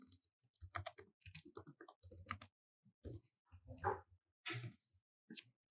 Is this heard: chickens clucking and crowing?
no